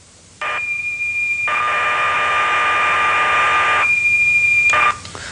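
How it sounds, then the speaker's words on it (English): A microcomputer program plays back from cassette tape as loud audio tones: a steady high pilot whistle, a burst, then a long dense data warble, a return to the whistle, and a clipped end. "The program is in fact stored as a set of audio tones or whistles."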